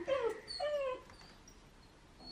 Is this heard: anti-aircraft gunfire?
no